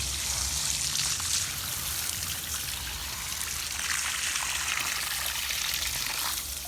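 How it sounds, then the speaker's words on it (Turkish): Pressurized water sprays steadily over a pool pump motor filter as it is rinsed clean, a continuous hissing wash with no break and no voices. "Tazikli suyla güzel yıkıyorsunuz."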